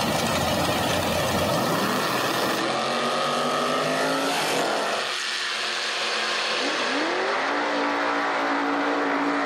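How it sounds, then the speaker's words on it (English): Drag race cars at a hot rod reunion at Beech Bend Raceway launch and accelerate down the strip, a loud sustained engine roar with sweeping pitch changes as they pull away, no talk over it. "Good drag race."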